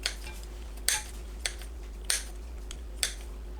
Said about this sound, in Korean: 통에 진미채를 너무 길지 않게 잘라 넣어주세요.